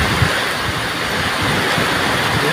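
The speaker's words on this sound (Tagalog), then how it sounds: "Walang tigil yung ulan. Mas dinamihan na yung ulan." Heavy, unrelenting typhoon rain in Camarines Sur, a dense, loud, continuous hiss of downpour that fills the whole stretch without letup.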